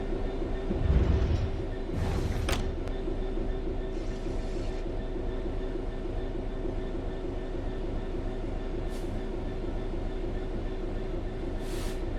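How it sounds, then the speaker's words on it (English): A train in the video game Train Sim World 3 coasts steadily along level rails with a low continuous rumble and hum, with a few brief squeals and clicks early on. "The train will then coast on level ground"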